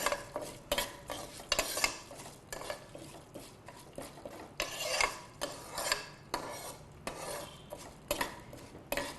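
Half a cup of toor dal dry-roasting in a pan, stirred with a spoon in a steady rhythmic scraping, repeated strokes roughly every half second, close and quiet with no voices.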